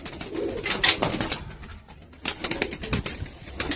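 Pigeons in a pigeon loft make soft, repeated throaty coos, mixed with rustling and brief wing flutters, close by and fairly loud, with a short lull midway.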